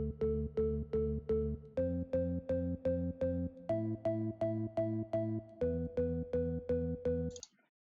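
Steady stabbed house organ chords from an M1 plugin pulse in an even rhythm through four chord changes, with the low filter automation switched off so the tone stays constant until a sudden stop, played alone.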